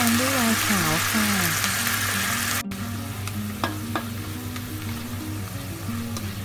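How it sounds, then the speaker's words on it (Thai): Pork meatballs in white wine sauce stir-frying in a pan produce a steady, fairly loud sizzle with a voice over it at first, then a few sharp utensil clicks against the pan. "ผัดสักครู่นึงให้แอลกอฮอล์ในไวน์ขาวระเหยออกให้หมดนะคะ"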